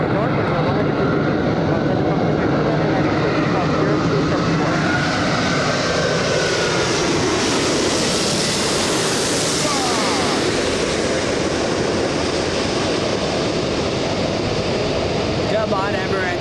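An Emirates airliner roars at Los Angeles International Airport in a broad, steady wash of jet noise that swells and peaks midway, loud and continuous, with a voice talking faintly underneath.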